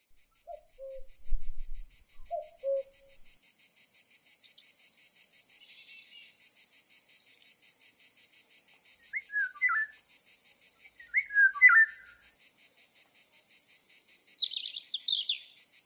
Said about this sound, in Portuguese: irão escutar o som de aves misturado com o som de fundo típico de uma floresta